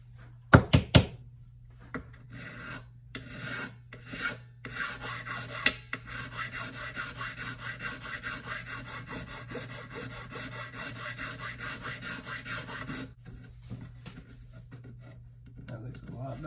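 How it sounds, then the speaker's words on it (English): A file rasps across the top of a Jackson Dinky JS22 guitar nut in steady, repeated back-and-forth strokes, close and distinct, preceded by a few sharp knocks and set over a low constant hum. "File the top of the nut down a little bit."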